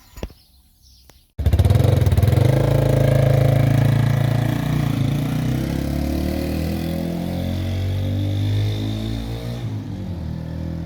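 A 1978 Honda XL 250 barn-find motorcycle engine bursts into a loud, close, steady running note after a short quiet opening, holding a rough idle with slight fluctuations throughout.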